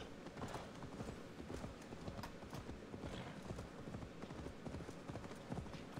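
Steady rhythmic clip-clop of horse hooves trotting in Assassin's Creed Valhalla, continuous and fairly close, with no pauses.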